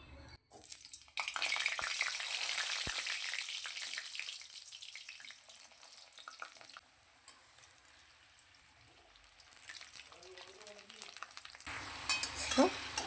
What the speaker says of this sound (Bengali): কড়ার মধ্যে দিচ্ছি সর্ষের তেল। প্রথমে আলুগুলো ভেজে নেব।